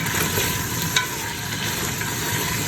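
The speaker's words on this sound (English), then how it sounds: "on medium heat, start sauteing the meat now" Meat sautéing in extra virgin olive oil in a pan over medium heat, a loud, dense, continuous sizzle close up with one faint clink partway through.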